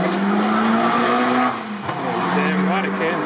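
Small RC Bigfoot monster truck motor whining at high pitch as it revs and lifts into a wheel stand, loud and close, the pitch rising and dropping as the throttle changes, with voices talking over it.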